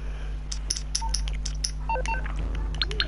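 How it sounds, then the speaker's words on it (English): Electronic in-game phone menu beeps from Grand Theft Auto 5, a series of short tonal blips of varying pitch scattered over about three seconds, steady game background hum underneath, no talking. "Go onto your phone, go onto job list."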